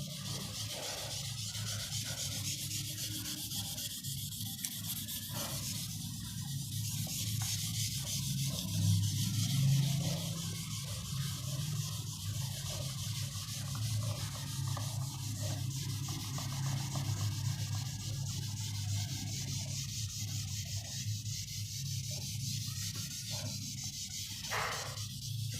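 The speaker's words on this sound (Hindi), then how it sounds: "इसके लिए मैं थोड़ा सा रब कर लेता हूं" An eraser or cloth rubs across a classroom board in a continuous scratchy swishing, steady and close for the whole stretch with slight rhythmic strokes, no talking.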